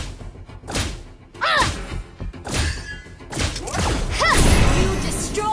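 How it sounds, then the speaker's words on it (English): A turret destroyed in the mobile battle game Mobile Legends: Bang Bang, heard as a loud jumble of heavy thuds, crashes and swishes in quick succession, with sharp whooshing effects layered over the impacts. "You destroyed a turret."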